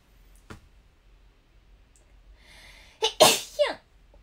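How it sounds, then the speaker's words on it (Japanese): A single loud sneeze close by, preceded by a soft tap and a quiet intake of breath, in an otherwise quiet room. "ちょっとくしゃみ出るわ"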